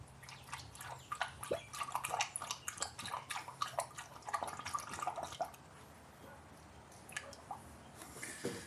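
Coolant glugs and splashes through a funnel into the radiator of a 2009 Subaru Outback 3.6L, close and fairly quiet, with a burbling, gurgling flow that thins to sparse drips.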